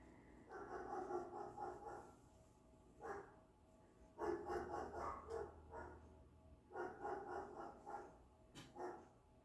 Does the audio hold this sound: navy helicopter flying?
no